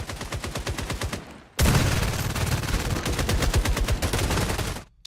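Automatic weapons fire in a video game: rapid, evenly spaced bursts of shots, then a sudden loud, sustained stretch of dense continuous gunfire that ends abruptly, with no talk.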